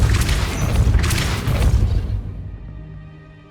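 A Depulso spell strikes a gate in Hogwarts Legacy, a loud booming rumble with crashing, mechanical clatter that holds for about two seconds and then fades into a low dying resonance.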